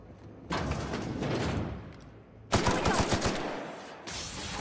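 Gunfire in the video game The Outer Worlds comes in two loud, dense bursts of rapid shots, the second sharper and punchier, separated by a short lull.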